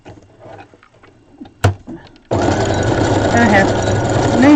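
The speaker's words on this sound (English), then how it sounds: "and I'm just going to sew" After a few soft handling noises, a sewing machine starts and runs steadily and close, stitching the neckline of a doll dress.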